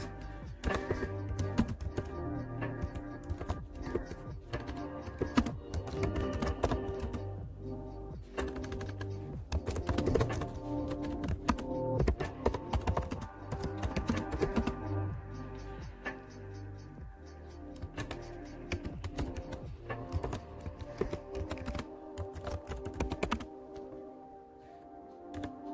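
Fingers type steadily on a computer keyboard, a dense run of close clicks and clacks with brief pauses, continuing throughout.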